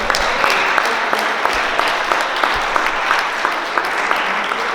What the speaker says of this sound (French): j'aimerais qu'on donne une main d'applaudissement aux élèves de francisation